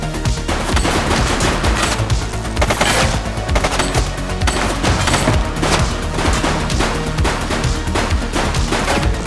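Rapid automatic gunfire in the police action video game The Precinct, dense loud bursts of shots rattling continuously and close, with no pauses across the whole stretch.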